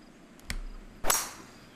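A golf club drives a ball off the tee on a par 5 in the game The Golf Club, at Loch Lorne Golf Club in Perthshire, Scotland: a faint click, then a sharp crack, then a louder bright whack that rings briefly.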